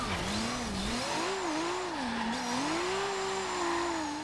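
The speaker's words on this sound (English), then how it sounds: "Uphill drift." A Nissan 240SX SE drift build in Forza Horizon 2 squeals its tires through an uphill drift, a continuous loud wavering screech over steady engine drone.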